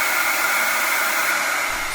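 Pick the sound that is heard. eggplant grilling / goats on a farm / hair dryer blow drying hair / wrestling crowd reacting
hair dryer blow drying hair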